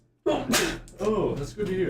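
A single sharp sneeze bursts out near the start during a tabletop RPG session, with people talking over and after it.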